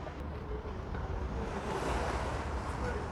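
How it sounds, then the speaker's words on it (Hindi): Water at the bank of the River Thames in London, heard as a steady broadband wash of small waves with wind buffeting the microphone, continuous and fairly close with no talking. "आप आवाज़ सुनिए पानी की, इतनी भली लग रही है।"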